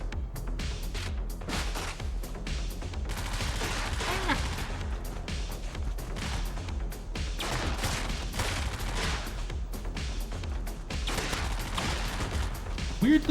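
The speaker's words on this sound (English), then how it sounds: "Weirdly quiet gun." Rapid, fairly quiet gunfire from a gun in the Brigador Killers video game, with dense crackling shots running nearly continuously beneath a steady low rumble and occasional voice.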